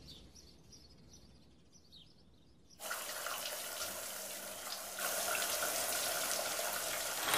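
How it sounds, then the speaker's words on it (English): Shower water starts running in a cartoon bathroom, a broadband hiss that bursts on suddenly and steadily grows stronger, with no talk. "Shower time."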